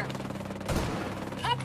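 Short burst of gunfire in Ghost Recon Breakpoint, close and sharp, with a voice speaking over it.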